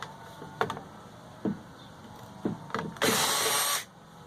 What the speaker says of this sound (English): get one of these little adapters for your drill